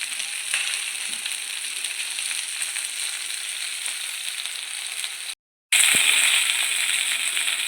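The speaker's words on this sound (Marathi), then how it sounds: "आता आपल्या भेंड्या पॅनमध्ये चांगल्या ठेवून झालेल्या आहेत" Stuffed okra frying in a pan, a steady, loud broadband sizzle that runs unbroken for several seconds, cuts out briefly, then returns just as strong, with no talking.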